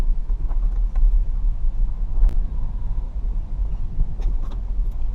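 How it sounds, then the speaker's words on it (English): A car rolls slowly over speed bumps during a suspension check, a steady low road rumble with a few faint knocks and clicks, no squeaks standing out, and no voices. "I'm going to go over some speed bumps to check for suspension clunks or squeaks"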